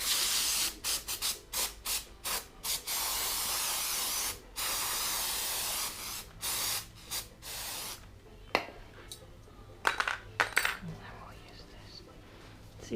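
Several short bursts of aerosol spray hiss as brake parts are cleaned on a 2014 Honda Accord sedan, then a longer continuous spray, followed by softer rubbing and a quiet voice.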